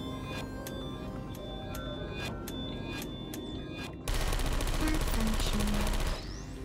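Automated turrets in the Portal video game fire bursts of rapid gunshots, sparse sharp cracks at first, then a dense continuous rattle of gunfire that holds steady for about two seconds before stopping.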